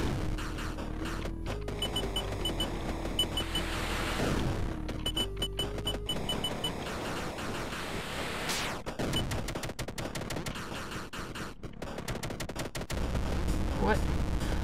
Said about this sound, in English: I'm assuming I have to shoot him in the head.